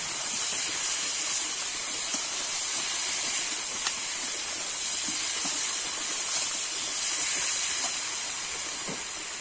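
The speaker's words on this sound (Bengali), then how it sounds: "এবারে আমি ভালো করে কিন্তু একটু কষিয়ে নেব।" Spices and potatoes sizzle in goat fat in a pan, a steady broad hiss running throughout at an even loudness with small crackles scattered over it, no voices.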